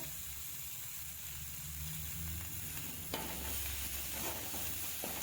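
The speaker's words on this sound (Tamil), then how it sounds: "இப்போ கொஞ்சமாக கொத்தமல்லி சேர்த்துக்கலாம். சேர்த்துட்டு அதையும் நல்லா கிண்டி விட்டுக்கோங்க" Chicken fries in a pan as coriander is stirred in, giving a continuous sizzle and hiss with a few spoon scrapes and taps against the pan.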